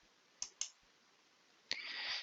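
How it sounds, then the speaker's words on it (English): A computer mouse clicks on map viewer buttons: two quick clicks, a pause, then another click in a quiet room, with no voices. "You can reset by clicking on the home button."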